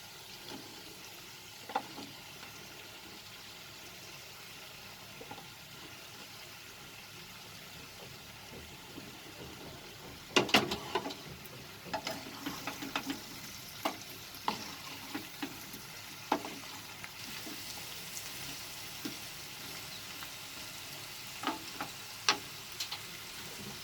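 Brinjal frying in a pan with potato for aloo baingan, a quiet steady sizzle with occasional clinks and stirring scrapes, louder rattling bursts midway, no voices.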